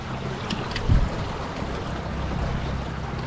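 A small electric-motored dinghy cruises along the River Dee, a steady low rumble of water and wind buffeting the microphone, with one brief louder bump.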